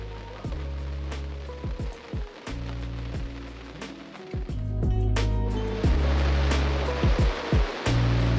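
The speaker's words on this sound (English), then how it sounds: "Look at this little river under me." Small river flowing beneath a lakeside carp-fishing spot, a steady close rush of water with splashing and dripping textures running continuously throughout.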